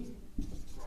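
Pen or chalk scratches out an English example sentence, "He writes a letter," in short close strokes over a faint low background.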